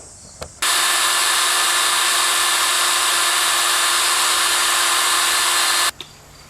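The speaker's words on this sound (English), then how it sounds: "now I'm going to try getting out the sander to see what I can do with this phosphoric acid" A power sander runs steadily on rusty Allis Chalmers 310 tractor parts treated with phosphoric acid, a loud continuous whine for about five seconds, with brief clicks as it starts and stops.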